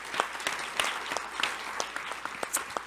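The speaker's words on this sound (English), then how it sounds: "Please give Kathy a great round of applause." An audience at a healthcare roundtable gives a round of applause, a steady patter of many hands clapping nearby, with individual claps standing out sharply and no one speaking.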